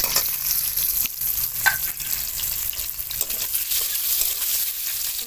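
Potatoes frying in hot oil with bay leaf, a dense continuous sizzle and crackle heard close up, with small stirring clicks and no talking.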